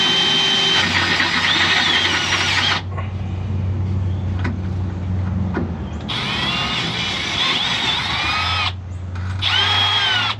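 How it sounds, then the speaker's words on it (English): A power drill bores a hole for an exhaust hanger on a 6.0L-swapped Silverado. Loud whirring bursts come in three runs with quieter pauses between them, and no talk. "I'm gonna finish drilling this"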